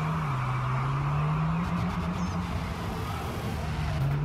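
A car engine in the Rocket League video game holds a steady droning hum with a slowly rising pitch, loud and continuous, with no talk over it.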